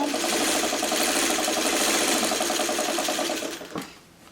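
Sewing machine stitching quilt patchwork for a friendship star block, a rapid, even mechanical chatter, close and steady, which slows and stops near the end, with no talking.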